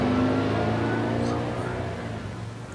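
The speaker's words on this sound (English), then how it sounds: "You don't think that was our bus" A bus drives past, a steady engine rumble that swells close by and then slowly fades away, with people talking over it.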